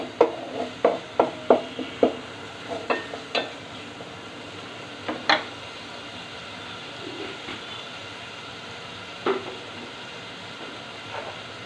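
Spices stirred and sautéed in a hot pan with ground cumin, a run of sharp scraping clacks from a spatula over a low sizzle, fading to sparse scrapes and quiet frying.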